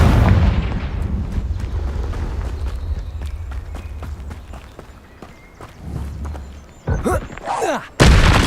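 Confringo fire spell blasts in Hogwarts Legacy, a run of sharp cracking impacts and booms amid footsteps and rumbling game ambience, ending in louder bursts near the end.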